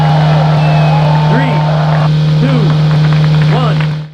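Lancia Delta engine from the Sega Rally Championship arcade racing game, a steady looping drone with a strong low hum held throughout, sliding whines and brief swooping tones over it, fading out at the end.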